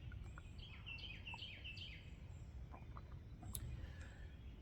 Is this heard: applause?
no